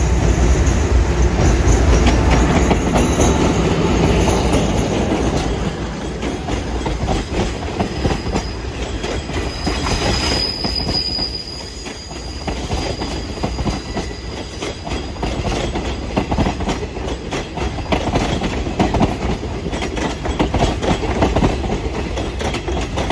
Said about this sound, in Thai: อันนี้ก็มาแล้วนะครับขบวน167 โค้งสวยๆงามๆเลยนะครับ